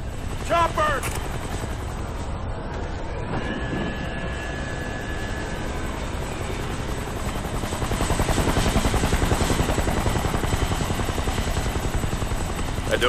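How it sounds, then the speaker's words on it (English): Helicopter in the video game Kane & Lynch 2: Dog Days, a loud continuous rotor thump and engine roar that holds throughout and swells near the end, dominating the scene. "Chopper!"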